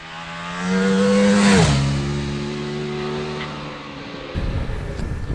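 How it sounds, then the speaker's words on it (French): A Ducati Multistrada V4S V4 engine pulls through town, its tone rising, then dropping with a gear change and settling into a smooth, steady hum before a rougher rumble near the end, close and moderately loud with no talk. "Là, le moteur est vraiment très très souple"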